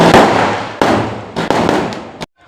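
A firecracker bang going off outside during a class, a sharp loud burst followed by crackling pops and a few more explosive cracks, fairly near, with no talk.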